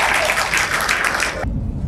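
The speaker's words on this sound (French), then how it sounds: "Applaudissez une fois de plus pour eux." An audience at a university debate applauds the debaters, a dense, loud wash of clapping that stops abruptly, leaving quiet room noise.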